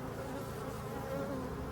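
Honeybees buzz around a hive in an apiary, a dense, continuous drone of many wings swarming close by at steady volume, with no voices.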